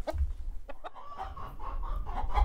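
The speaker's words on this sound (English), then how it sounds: "All the chickens got loose in the clubhouse." Loose chickens clucking inside a clubhouse, a few close, soft clucks and squawks scattered over a low rumble with no talking.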